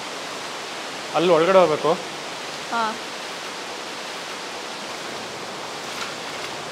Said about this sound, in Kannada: ಎಲ್ಲ ಕಡೆ ನೀರು ಬೀಳ್ತಾ ಇದೆ